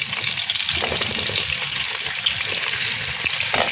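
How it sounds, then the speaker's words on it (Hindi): Meat fries in a pot with whole spices for a pulao, a dense, continuous hiss and bubbling crackle heard close and fairly loud with no voices. "गोश्त डाल के हम इसको फ्राई करेंगे।"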